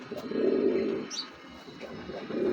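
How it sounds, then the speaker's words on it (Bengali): Low, soft pigeon coos rolling in two swells, fairly close, with a faint high chirp in between and no voices. "কবুতরগুলো যারা চিনেন মানে মাসাল্লাহ খুবই সুন্দর কবুতর দুইটা"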